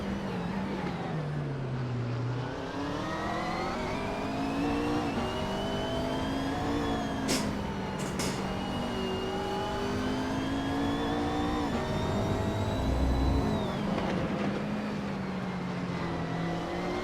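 GT3 race cars at the Nürburgring GP in a racing video game, with a steady engine drone whose pitch climbs and drops through gear shifts, plus a couple of brief sharp clicks, continuous and without talk.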